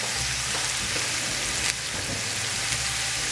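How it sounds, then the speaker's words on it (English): Yellow squash and zucchini sautéing in a pan give a steady, close sizzle and crackle that holds at an even level, with a brief stirring scrape partway through. "we're going to let this saute for the next 5 minutes"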